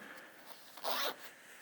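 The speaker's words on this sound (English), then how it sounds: "Again, both zips are locking zips." A locking zip on a Fjallraven trouser thigh pocket is pulled once in a quick, close rasp, alone in a quiet room.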